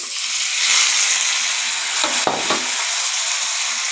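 Washed rice and lentils fry in a hot pan with a loud, steady, hissing sizzle throughout, briefly broken by a stir around the middle.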